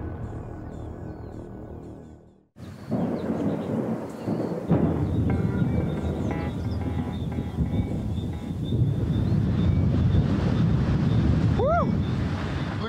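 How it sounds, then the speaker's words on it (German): A thunderstorm rolls in outdoors in the wilderness, with deep continuous rumbling thunder and strong wind buffeting the microphone, loud and steady after a brief quiet moment. "Ich glaube, da kommt ein Unwetter."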